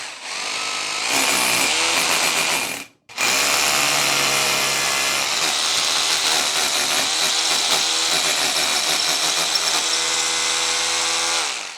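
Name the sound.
power drill drilling through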